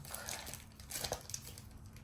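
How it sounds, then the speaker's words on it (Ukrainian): Close, quiet crinkling and rustling of a thin plastic packet, with small crackles as it is handled and torn. "Я вже, здається, порвала цей пакетик."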